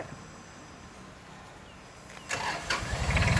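An Iseki AT5330 tractor's engine starts up and runs loud and close at a factory workshop, building to a strong rumble as the front dozer blade begins operating.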